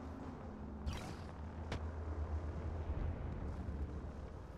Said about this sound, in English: Frag grenade set.